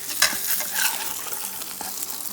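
An egg fries in a pan, a bright steady sizzle with a couple of light scraping touches near the start, close and clear.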